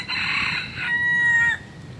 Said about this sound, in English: when the chickens crow, it's 5 syllables